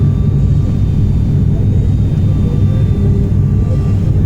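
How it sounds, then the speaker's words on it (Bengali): Steady loud low rumble of an airliner's engines on descent for landing in Bhutan among high mountains, continuous broadband roar heard from inside the cabin with a faint whine above it. "আমরা এখন ল্যান্ড করছি ইনশাল্লাহ"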